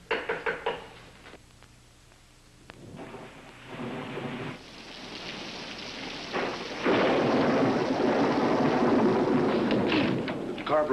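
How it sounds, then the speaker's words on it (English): Heavy rain and rolling thunder from a storm sweep over a dark road where a car has broken down, the downpour swelling into a loud, steady roar with deep rumbles breaking through. "We got caught in the storm."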